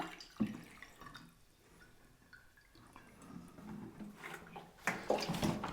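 Water poured into a dish for a free-standing floral design, quiet close splashing and dripping with a few louder bursts of pouring, faint overall.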